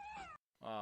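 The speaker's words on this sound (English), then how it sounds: "it's a cat." A cat gives two short, close meows with a brief silence between them.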